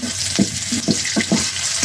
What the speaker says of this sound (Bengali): পেঁয়াজটা একটু ভাজা ভাজা হয়ে আসতেছে, তো কাঁচামরিচ দিয়ে দিলাম